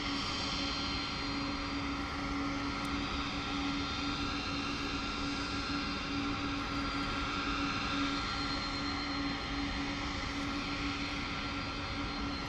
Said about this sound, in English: There's a couple of planes taxiing as well.